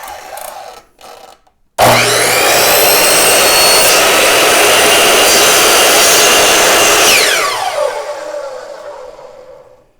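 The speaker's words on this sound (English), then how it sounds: "I've decided just to use my compound miter saw to cut this PVC board in two." A compound miter saw spins up loudly after a short pause and cuts through a PVC board for about five seconds, a harsh steady whine close by, then the blade winds down and fades out.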